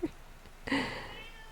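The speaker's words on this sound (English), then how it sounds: "if you hear Rengar meowing" Rengar the cat lets out a short, clear meow in a quiet room, a brief chirp followed by a longer, drawn-out cry, close and moderately loud with no talking.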